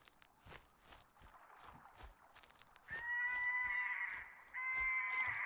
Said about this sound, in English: No, don't you be turkey calling at me.